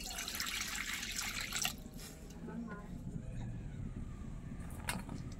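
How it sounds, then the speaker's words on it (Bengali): Water poured in a home kitchen to boil soybeans, a brief rushing splash for under two seconds, then quieter trickling and a faint drip, with a voice talking underneath. "জল ঢেলে দেব"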